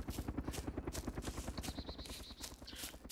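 A helicopter sets down in the survival game DayZ Epoch, its rotor beating in a fast, steady pulse close by, with brief whining tones and faint voices mixed in.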